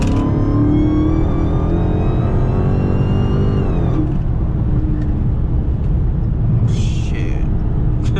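An 800hp Dodge Hellcat engine roars loud and close in a steady, climbing drone for several seconds, then drops abruptly to a lower, rumbling cruise with road noise.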